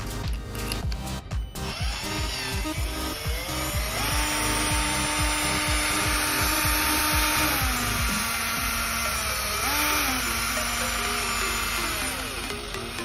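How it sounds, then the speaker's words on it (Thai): A Berala 72V 5.0Ah BL-785 cordless drill whirs steadily for several seconds, its motor pitch shifting up and down as the trigger is squeezed and eased. "จะมาลองใส่ใส่ดอกสว่านดูนะครับ ใช้งานได้จริง"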